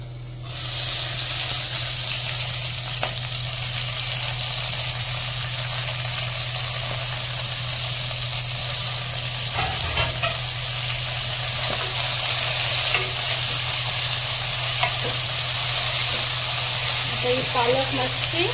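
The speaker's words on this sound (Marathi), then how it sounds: "आता हांव घालतले पालक" Spinach fries in a pan over a steady loud sizzle with a constant low hum underneath, and a few faint clinks break through near the end.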